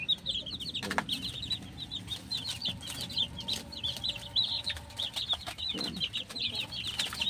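Young chicks cheep in quick, high bursts alongside clucking chickens nearby, with a couple of brief louder flutters or bumps, with no talking.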